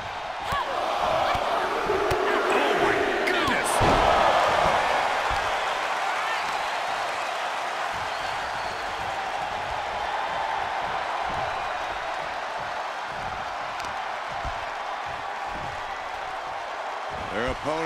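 A crowd roars steadily and loudly through a women's pro wrestling match, a two-out-of-three-falls bout between two wrestlers, with a commentator talking over the noise.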